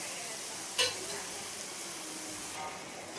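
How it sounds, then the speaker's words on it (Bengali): Spice masala for chicken biryani fries in a kadai while it is stirred, producing a continuous close sizzle with a brief scrape early on and no speech. "একটু মশলাটা ভাজা হোক।"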